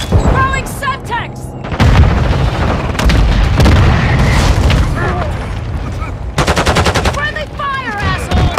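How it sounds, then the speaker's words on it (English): A Semtex grenade detonates in Call of Duty Modern Warfare II, a heavy boom amid loud bursts of automatic gunfire, with shouting voices over the battle. "Throwing Semtex!"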